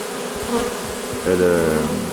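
Honeybees at an apiary hum densely around a newly arrived swarm, with some fanning their wings at the hive entrance; the close, continuous buzz swells louder partway through.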